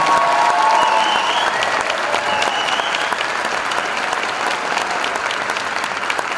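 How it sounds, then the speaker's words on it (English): Audience applause for a student band at a secondary school music festival concert, a dense, steady wash of many hands clapping that fills the hall for several seconds at a constant loudness. "Please give them another round of applause for these fantastic students."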